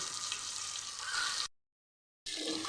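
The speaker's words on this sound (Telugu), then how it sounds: "ఎగ్స్ మంచిగా బ్రౌన్ కలర్ వరకు ఫ్రై చేసుకోవాలి" Eggs sizzling in hot oil with salt, turmeric and chili for egg biryani in a cooker, a steady close crackle that cuts out briefly before resuming.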